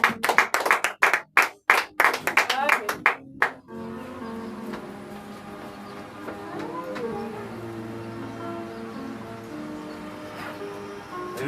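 Congregation at a church service clapping in unison, a quick burst of loud, close rhythmic claps lasting a few seconds before fading into murmuring voices and room noise.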